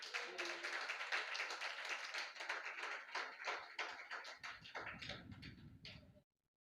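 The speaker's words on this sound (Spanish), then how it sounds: "Dale un aplauso al Señor." Church congregation applauding together, a dense run of many hands clapping with a steady, fairly loud texture that fades out near the end, with no voices over it.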